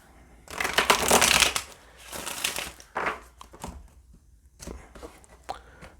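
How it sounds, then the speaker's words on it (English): A deck of cards being shuffled for a tarot reading, with crisp riffling bursts followed by lighter shuffles and taps, close and fairly loud. "this will be the last shuffle"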